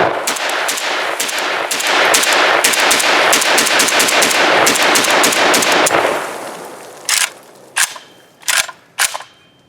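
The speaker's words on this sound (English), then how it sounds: "The muzzle blast is present." A braced PM63 pistol fires a long, loud run of rapid shots for about six seconds, then a few separate single shots ring out with pauses between them. No voices can be heard.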